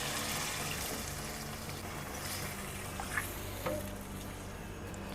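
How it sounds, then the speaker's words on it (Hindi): Water pours steadily into a karahi of browned beef keema and peas, a soft continuous trickle with a couple of faint splashes near the end. "अब इसमें डालेंगे हम पानी, तकरीबन 2 गिलास में पानी के डालूंगी"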